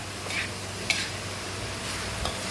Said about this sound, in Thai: เราก็จะผัดไปเรื่อยๆให้เนื้อกับ หน่อไม้ แล้วก็พริกให้เข้าเครื่องกันเลยนะครับ